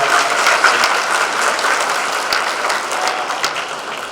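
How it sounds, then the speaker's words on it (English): A large audience gives the Central High Jazz Band a round of applause at the opening of a LaSTEM conference, with loud, dense, steady clapping filling the room and no voices over it. "how about we give a round of applause for the Central High Jazz Band?"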